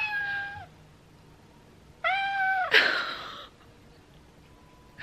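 A plush toy cat meows each time its red paw pad is pressed. Two clear electronic meows sound up close with a pause between them, and a sharp burst of breath or rustle follows the second one.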